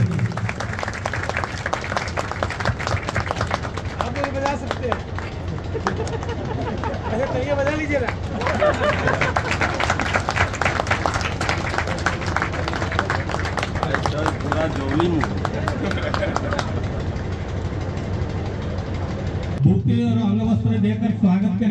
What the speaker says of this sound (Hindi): ताली स्वागत के बजे